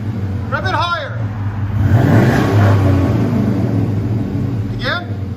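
A 2007 GMC Sierra 5.3L V8 with true dual exhaust and Flowmaster Super 40 mufflers idles with a deep rumble, then is revved twice, once early and once near the end, each a quick rising roar over the steady burble.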